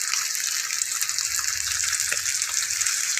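Fresh pork chop sizzling steadily on a grill, a continuous close hiss and crackle with no talk over it.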